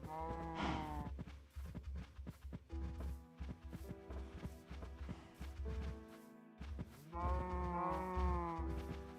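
A cow moos in a farming video game, two loud drawn-out lowing calls at the start and end over constant game background sound and music.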